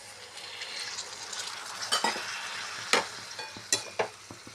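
Potato and cauliflower masala sizzles and fries steadily in a pan while a spoon stirs it, with several sharp metallic scrapes and clinks against the pan standing out near the end.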